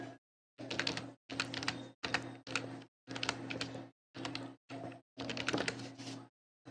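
Bursts of typing on a computer keyboard as a long GRN number is entered, in seven separate runs of rapid clicking with short silent pauses between them. The keys sound close and moderately loud, with no talking.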